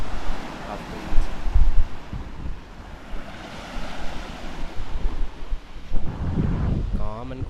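Sea waves wash ashore at Half Moon Beach in Gokarna, a steady surf roar with swelling surges and wind buffeting the microphone, and a voice briefly audible near the end.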